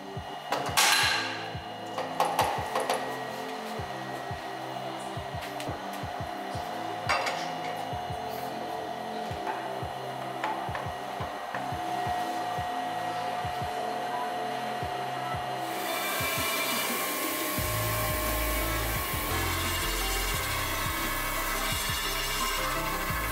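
A crankshaft grinding machine for a Jaguar Mark 2 engine runs loudly in a workshop, with sharp metallic clatters and knocks over a steady mechanical drone that swells into a denser, louder grinding noise toward the end.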